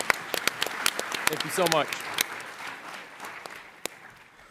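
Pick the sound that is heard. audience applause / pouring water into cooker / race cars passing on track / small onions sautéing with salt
audience applause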